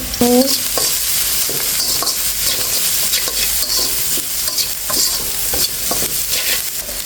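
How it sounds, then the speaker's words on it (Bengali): Onion and garlic sizzle in hot oil with salt while being stirred: a steady loud frying hiss broken by repeated scraping strokes of a spoon against the pan, close up, with no talking. "আমার এই পেঁয়াজ রসুনটা কষানোর জন্য যে লবণটা লাগবে সেটাই দিচ্ছি।"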